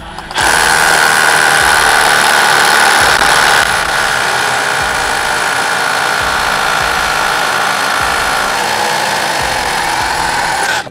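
A RYOBI RSDS18X rotary hammer bores into cut stone with a steady, loud, high-pitched whine and rapid hammering rattle, running continuously close by and easing slightly partway through.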